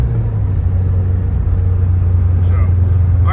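A 1984 Porsche 944 engine pulls at high revs from inside the car, a loud steady low drone with constant road rumble and no change in pitch over a few seconds.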